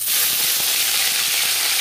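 Bhola vetki fish rubbed with turmeric sizzles loudly in hot refined oil, a dense steady crackling hiss close up with small pops throughout.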